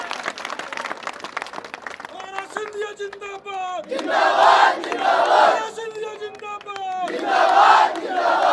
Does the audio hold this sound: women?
yes